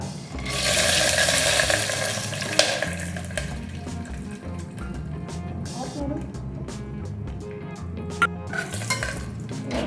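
Peanuts frying in a pan while being stirred for pulao, with a loud continuous sizzle and scraping of the utensil against the pan, and occasional clinks.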